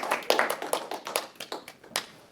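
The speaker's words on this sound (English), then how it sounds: "Yes, applaud." Audience applause at an awards ceremony as a magazine photo prize is announced: a small crowd's clapping in irregular bursts for about two seconds, moderately close, with no voices over it.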